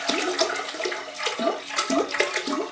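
Water is poured steadily into a container to mix feed for Cymbidium orchids, making a continuous close splashing rush with a slightly gurgling, repeating pattern and no talk.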